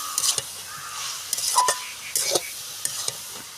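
Fish-head and cabbage ghonto stirred and fried in a pan: a steady soft sizzle broken by several brisk scraping strokes of a spatula, close by, with no talking.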